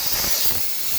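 Steady clean air hissing from the nozzle of an ETO sterilizer, a continuous, fairly loud broadband rush with no break across the moment and no voices.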